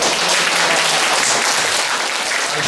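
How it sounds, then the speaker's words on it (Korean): Audience applause at the close of a Korean lecture on understanding and responding to problem behavior, a steady dense wash of clapping held at an even level for the whole stretch, with no talk over it. "오늘 연락해 주신 우리 다시 한번 박수 드립니다."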